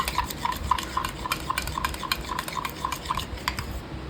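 Curd for spiced buttermilk is whisked in a vessel, giving a brisk, regular series of light clinking strokes, close and fairly soft, with no talking.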